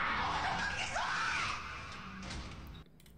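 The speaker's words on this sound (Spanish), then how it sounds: "se escucha el puto grito, se escucha el puto grito con eco" A loud, harsh scream with a long echoing tail sweeps through a cavernous space in the horror game Lethal Company, then cuts off abruptly into near silence.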